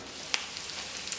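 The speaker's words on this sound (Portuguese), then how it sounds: "E tô fritando ali a linguiça." Sausage frying in a pan at home while cooking feijoada, a steady close crackling sizzle with a few sharper pops, heard alone without voices.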